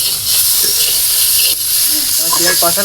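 Water hits a hot pan of frying tomatoes, giving a loud, steady steam hiss and sizzle that runs throughout, with a bubbling crackle picking up near the end.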